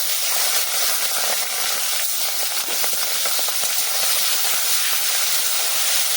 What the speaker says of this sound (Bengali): এবার হলুদ লবণ মেখে রাখা চিংড়ি মাছগুলোকে ভেজে নেব